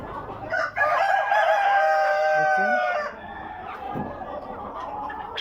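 A tiger breed rooster lets out one long, loud crow at close range, with hens clucking around it in a farmyard, and the crow fades into softer clucks.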